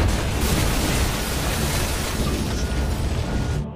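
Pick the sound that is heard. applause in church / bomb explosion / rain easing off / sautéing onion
bomb explosion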